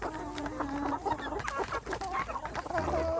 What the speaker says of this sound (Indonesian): Ini jago-jago yang bagus-bagus kok jadi lauk ya seperti ini ya.